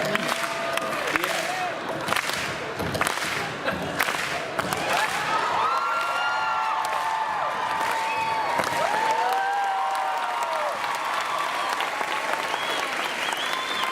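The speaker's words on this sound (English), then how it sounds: "Wait, guys, we should clap" An audience at a San Diego Comic-Con 2017 Outlander panel claps and cheers loudly and continuously in a large hall, with voices and shouts mixed into the applause throughout.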